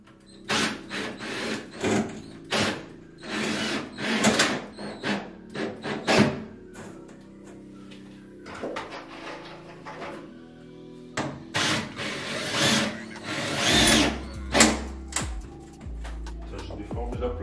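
A power screwdriver drives screws through a Wedi panel into a metal frame, making repeated short whirring bursts up close, separated by pauses and handling noise.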